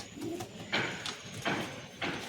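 Giribaz pigeons coo softly in a few rhythmic, repeated calls, close by and fairly quiet against a low background hum.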